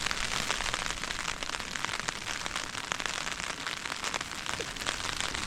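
Heavy rain drums steadily on a leaking tent during a solo wild camp, a dense, continuous hiss of drops hitting the fabric close by throughout, with no pauses.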